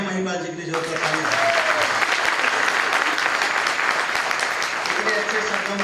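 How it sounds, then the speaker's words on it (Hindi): Loud, dense audience applause at an indoor business team gathering, starting abruptly after a brief moment of music and continuing as a steady, close roar of many hands. "जोरदार तालियां"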